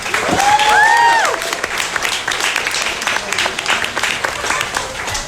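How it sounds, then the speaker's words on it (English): Audience applause for a presenter at a tech talk on the Fediverse and Mastodon, a swell of clapping that peaks early then thins out, with a voice rising briefly over it. "Can we have another round of applause for John, please?"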